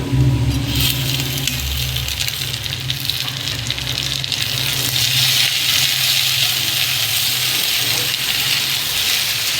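Okra sizzling in hot oil in a pan after being added to browned garlic paste, a steady, loud frying hiss that stays continuous, with no talking.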